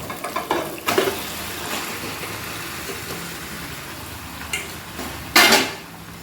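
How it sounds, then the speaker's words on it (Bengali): Chicken is added to a cooking pot and stirred, producing clattering utensil knocks and scraping early on. A quieter stretch follows, then a loud metallic clank near the end. "এবার আমি চিকেনটাকে এর মধ্যে দিয়ে দেবো।"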